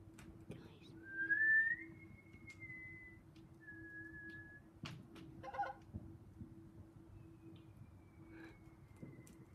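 A faint whistled tone rises and holds, then a second short whistle follows, over a steady low hum with scattered clicks and muffled voices.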